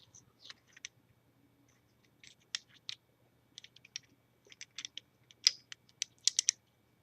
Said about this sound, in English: That's how you put the bolt back together.